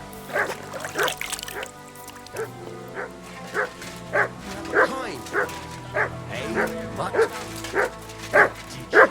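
A dog in the video game Kingdom Come Deliverance II gives repeated short barks and yips with whimpering in between, an irregular run of sharp bursts over a faint background, with some talk mixed in.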